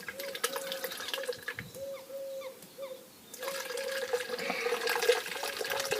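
Water runs steadily from a tap into a jug during home brewing, a continuous splashing hiss that eases briefly in the middle and then returns a little fuller.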